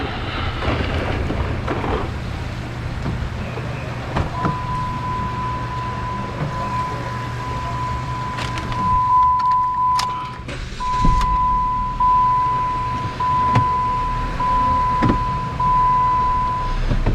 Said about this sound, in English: We're gonna fire it up and let it run.